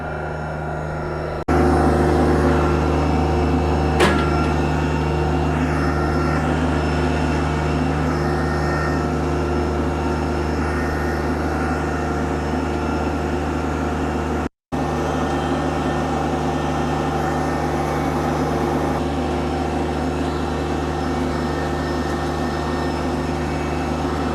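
A subcompact tractor's engine runs at about 3,000 RPM while box-blading a driveway. It makes a steady, close droning hum that holds even, with a brief dropout midway and no speech.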